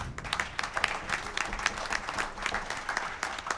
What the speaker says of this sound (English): hopefully you're still in the clapping mood